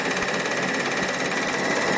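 A Bernina sewing machine stitching fabric, running in a loud, steady, fast mechanical whir with an even rapid needle rhythm throughout, close up and uninterrupted.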